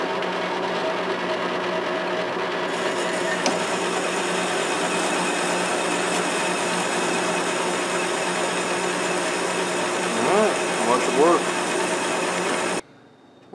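A lathe fitted with a negative-rake cutting tool runs with a steady, loud mechanical whine and hum throughout, a slight wavering change near the end before it cuts off abruptly.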